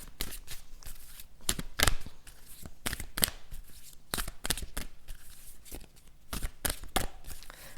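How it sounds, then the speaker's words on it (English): Sacred Spirit reading cards shuffled by hand in a quiet room, a steady run of crisp riffling bursts and soft slaps, close and fairly loud, with short pauses between shuffles. "I'm going to pull on the Sacred Spirit reading cards here"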